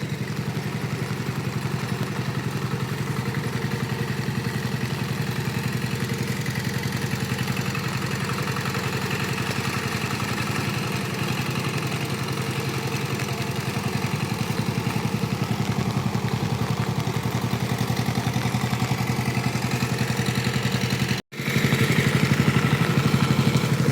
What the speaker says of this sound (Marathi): ट्रॅक्टर बाहेर काढतायत